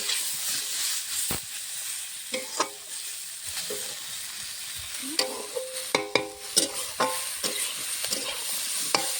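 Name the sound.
vegetables frying and being stirred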